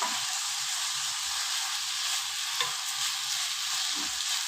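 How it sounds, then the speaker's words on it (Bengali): Carrots, green chillies and rice being lightly fried in a pan for pulao give off a steady, close, even sizzle with a few soft stirring scrapes and no talking. "এগুলাকে আমি হালকা বেজে নিচ্ছি।"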